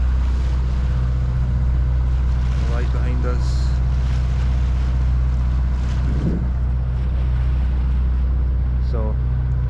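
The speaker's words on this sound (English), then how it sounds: "engine noise again for now" A 36ft liveaboard sailboat motoring under engine on the water off Vancouver Island, with a constant low droning hum running throughout and a few brief voices speaking over it.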